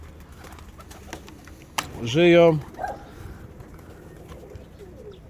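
A pigeon at a loft gives one close, clear, drawn-out coo, with faint background rustling and a brief spoken word beforehand.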